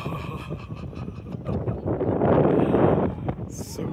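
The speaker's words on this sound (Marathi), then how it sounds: "छान वारं आहे" Wind gusts over the Sinhagad fort bastion in a rough, swelling roar against the microphone, building loud in the middle before easing, with clouds drifting up from the valley.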